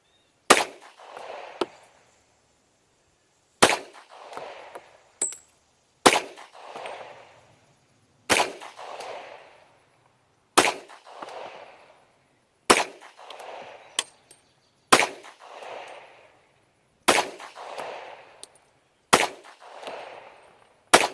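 Nine sharp gunshots come from a Glock long-slide pistol firing MagTech 180-grain full metal jacket flat-tip rounds, evenly spaced about two seconds apart, each a loud crack that trails into a short echo.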